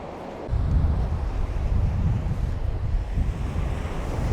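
Surf breaking on Kilfarrasy beach in Ireland, with a stone in the foreground, mixed with gusting wind buffeting the microphone; a steady, close, loud wash of waves that swells after a brief quieter start, with no voices.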